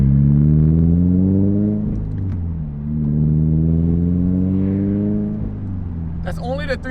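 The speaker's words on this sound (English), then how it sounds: "the car definitely has more of a presence to it. It's a lot throatier, it's a lot deeper, and it's just more aggressive." Toyota 86 sports car with a louder aftermarket exhaust, its deep throaty engine note rising and falling through a few revs, close and loud, with a short squeaky sound at the end.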